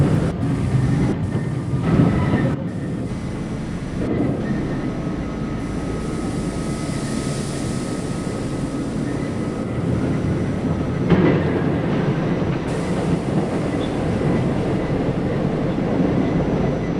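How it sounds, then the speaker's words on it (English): R40 Slant C subway train running on rails in New York, a steady loud rumble with intermittent clicks and clatter from the wheels over track joints, heard from inside the car throughout. "This is a Bronx-bound C local train."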